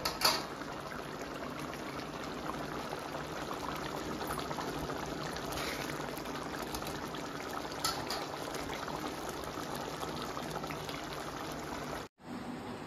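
Gongura mutton boti curry bubbling in a pan, a steady, even simmer of soft popping and hiss that continues without a break until it cuts off near the end.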